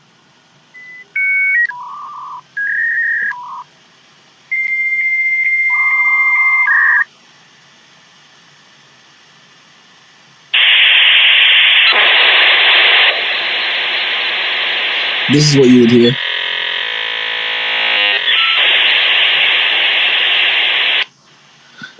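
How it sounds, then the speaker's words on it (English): Dial-up internet modem handshake on a phone line: a few short dialing tones, a pause, then a long loud hissing, screeching burst of static with a warbling chirp partway through, running steadily to the end. "Dial-up sound."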